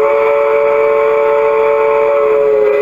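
A loud, steady PIKO digital model locomotive whistle with a sustained, chord-like electronic tone, held without a break for about three seconds.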